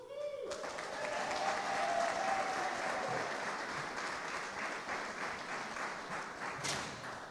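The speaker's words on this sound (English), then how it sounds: "I was supposed to cue the applause, but you applauded before I did that" Audience applause at a school and health academy news conference, a full burst of clapping from a crowded room that starts abruptly and continues steadily, close and loud, with a voice briefly heard before it.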